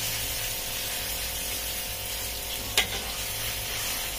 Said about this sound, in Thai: ผัดนะครับ